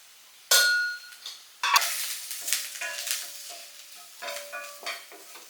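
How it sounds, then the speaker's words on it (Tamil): Turmeric, chili, coriander and garam masala powders fry in hot oil, opening with a sudden loud sizzle that fades, then renewed hissing bursts and light stirring scrapes close at hand. "இது கூட கொஞ்சம் மஞ்சள் தூள், மிளகாய் தூள், மல்லித்தூள், கரம் மசாலா தூள் எல்லாமே போட்டு நல்லா வதக்கிக்கலாம்"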